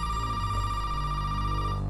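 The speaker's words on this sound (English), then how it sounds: "Let's answer the phone." A telephone rings inside a Resident Evil 7 game scene, a steady sustained ringing tone over a low droning ambient hum, fairly close and continuous, with no voices.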